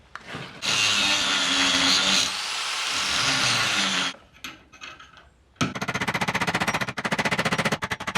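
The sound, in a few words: grinder working on Land Rover collar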